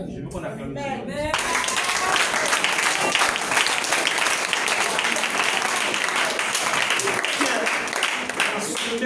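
A church congregation applauds loudly and continuously after a sudden start, with voices rising over the clapping throughout.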